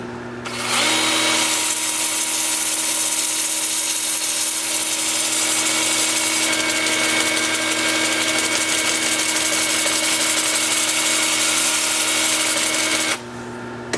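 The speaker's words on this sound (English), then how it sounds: "with the lathe spinning in reverse at about 350" A wood lathe spins in reverse at about 350 while turning wood, giving a loud, steady drone with a high whine that holds for roughly twelve seconds before dropping off.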